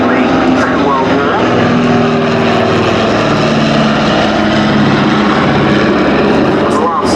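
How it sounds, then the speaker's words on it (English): A de Havilland Dragon Rapide and an Avro Anson, vintage propeller planes, make a formation pass at a VE Day airshow at Duxford, their engines a loud, steady drone filling the whole stretch. "It was the last pass by the two aeroplanes in that formation."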